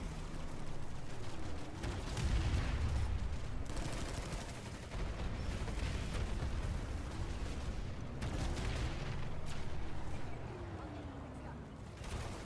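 Rapid gunfire and rocket blasts from a Planetside 2 battle roll on continuously, with dense booms and crackling shots layered over a steady rumbling din.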